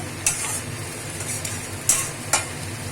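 Onions turning reddish-brown fry in a pan for a mutton curry, with a steady sizzle close up and a few sharp scraping stir strokes, and no talk.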